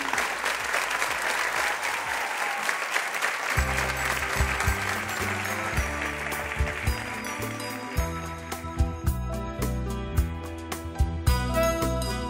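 Audience applause at a comedy gala for a tribute show, a dense steady clapping crowd that carries on as music with a pulsing beat starts up and plays beneath it.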